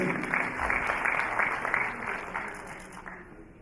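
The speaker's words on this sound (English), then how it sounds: "Please give a big round of applause" A crowd applauds steadily, the clapping fading toward the end.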